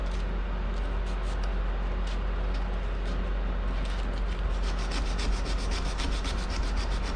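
Continuous abrasive grinding of a knife bevel against a bench grinder's sanding belt at the first, coarsest grit, a steady rough hiss with rhythmic scraping passes, close and unbroken.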